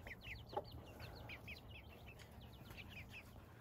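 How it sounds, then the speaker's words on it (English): A hen with a baby chick on a small farm, with faint, steady high peeping and soft clucks repeating over low background noise. "And right there I have a hen and a baby."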